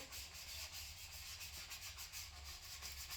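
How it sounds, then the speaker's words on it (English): Steady, continuous rubbing and scraping of sanding on a 1967 Firebird car body, repeating in short strokes with an even rhythm, close by and fairly quiet. "we keep sanding here."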